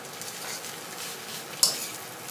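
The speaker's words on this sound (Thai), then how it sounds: "อันนี้ได้มาจากพัชรุ่มก็เลยเอามาผัดนะคะ" Curry paste being stir-fried in a pan gives a steady close sizzle throughout, with one sharp utensil knock near the end and no talking.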